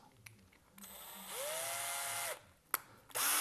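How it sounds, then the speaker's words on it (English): A power drill whirs up in a sustained, rising whine while boring a pilot hole, with the bit not quite straight and wobbling, stops, then starts again after a sharp click. "We'll drill these holes."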